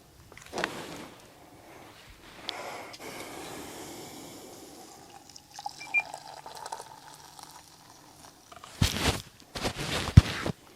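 Water splashes close by as a caught fish is released back into the water, two loud bursts of splashing late on after quieter shuffling and rustling.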